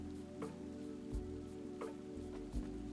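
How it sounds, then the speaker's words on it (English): Steady patter of rain in the video game Satisfactory over a constant low droning hum, with a few soft thuds recurring at regular intervals. "and it's raining."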